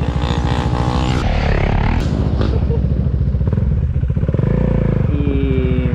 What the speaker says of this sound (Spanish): Ahí viene Valen colgando la Duke